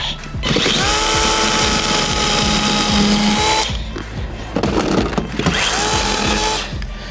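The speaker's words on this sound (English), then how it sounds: "let's do chainsaw art instead" A loud, steady mechanical engine drone of a chainsaw cutting wood in a yard, with brief pauses and revving, running close by.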